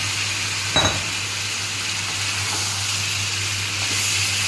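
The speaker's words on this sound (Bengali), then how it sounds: "এই যে আমার মশলাটা কষানো হয়ে গেছে তেল বেরিয়ে গেছে এবার আমি সয়াবিনটা দিয়ে দেবো" Soybean chunks hit hot oil and spice masala that has been fried until the oil separates, for a vegetarian soybean dalna. The result is a steady, close sizzle with one brief clatter near the start.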